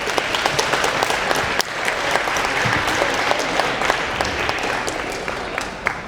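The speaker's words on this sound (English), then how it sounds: "I want to give a round of applause for the families for their patience" A round of applause from the crowd at a high school senior night ceremony, steady dense clapping filling the whole stretch with no voices over it.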